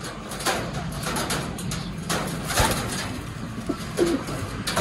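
Pigeons cooing outdoors in warm weather, soft repeated coos with a few brief calls over a steady background hum, fairly near and moderately loud.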